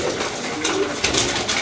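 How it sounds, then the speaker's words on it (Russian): A pigeon coos softly at close range, giving a few low, rolling calls over faint background noise. "Вот это голубь"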